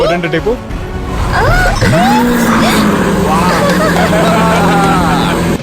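A Lamborghini engine fires up with a rising rev, then settles into a steady, throaty idle close by. Excited chatter and laughter run over it throughout.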